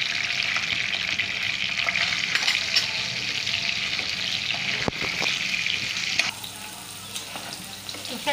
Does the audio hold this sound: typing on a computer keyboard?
no